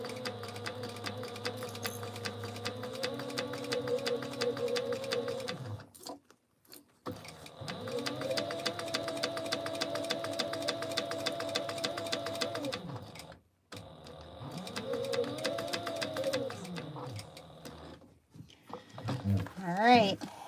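A home sewing machine stitching and back stitching at the start of a connector seam on a Mini Scout sewing project, running in three sustained whirring bursts with brief pauses, close and steady.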